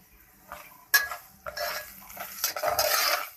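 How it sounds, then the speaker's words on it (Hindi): Semolina roasting in hot ghee in a pan, stirred with a spoon: scraping and clinking of utensil on metal in short bursts with a soft sizzle, close but fairly quiet. "हमारा घी गरम हो गया है। अब हम इसके अंदर ऐड करेंगे सूजी और अब इसकी करेंगे भुनाई।"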